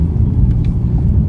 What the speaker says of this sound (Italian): Eccoci qua finalmente alla prova su strada, partenza.